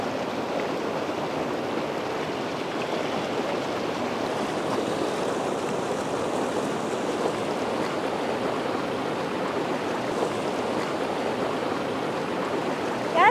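Mountain river rushing past in the Caucasus near Kazbegi, Georgia, a steady, dense roar of flowing water that holds constant and close throughout, with no voices.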